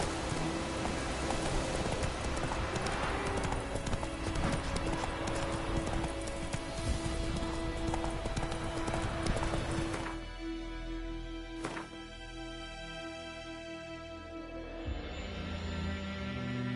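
Galloping horse hooves pound rhythmically in The Witcher 3 over a rainy background, then the hoofbeats slow and thin out near the end as the ride eases.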